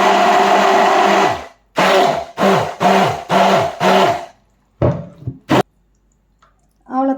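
Blender grinding a homemade vinaigrette in short loud pulses: one long whirring run, then four quick bursts, a brief whir and a last short pulse, each motor whine rising and cutting off sharply.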